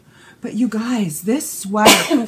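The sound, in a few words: sneeze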